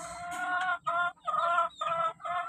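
An El Gamma Gray gamecock rooster, half Boston, clucks close by in several quick bursts of harsh, nasal calls separated by brief pauses, with no talk.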